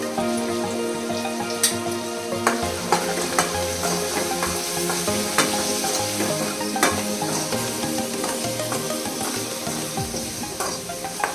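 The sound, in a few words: frying raw mango palya with garam masala in a pan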